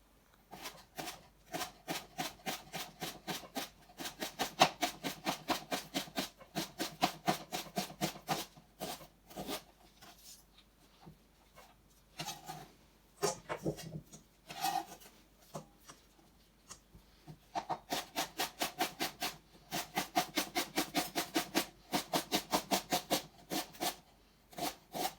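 Leeks being sliced with a knife on a cutting board while preparing a lacquered salmon recipe: quick, steady runs of close crisp chops with a short pause in the middle.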